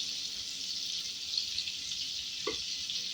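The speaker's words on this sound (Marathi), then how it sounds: "तेल गरम झालंय. आता त्याच्यामध्ये घालूया बटर." Butter melting in hot oil in a pan over a medium flame gives off a steady, soft sizzle, with a brief clink or stir near the end.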